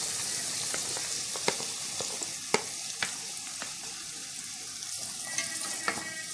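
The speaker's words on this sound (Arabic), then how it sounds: "هجيب البصل هشوح البصل بتاعي كده" Onions sauté in a pan alongside browned beef pieces for a stewed kebab dish, a steady close sizzle with occasional sharp pops and crackles of a stirring spoon, with no talk.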